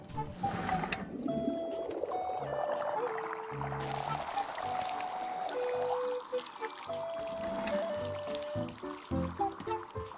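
Water sloshing and pouring as something is dunked in the Wanderstop tea-making game, with trickling liquid sounds alongside soft tonal chimes and bright musical notes throughout.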